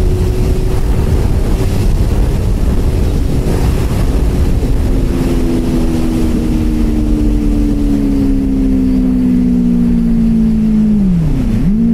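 Two motorcycles, a Royal Enfield GT650 and a Benelli 600i, drag racing: loud, steady engine drone with rising then falling pitch, heavily buffeted by wind noise from a rider's open-helmet mic.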